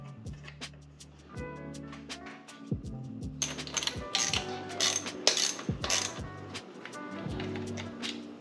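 A ratchet wrench clicks steadily as it backs out the four bolts on the impeller housing of a two-stroke outboard motor, with quicker, denser bursts of ratcheting in the middle and a low hum underneath.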